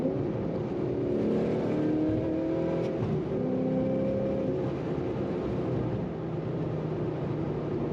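A 2006 Ford GT accelerating hard on the Autobahn, a loud, steady engine roar with rising drone that holds continuously throughout, heard from inside the car with no talk over it.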